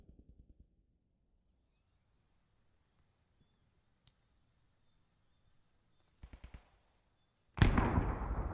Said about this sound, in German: Panzer zerstört.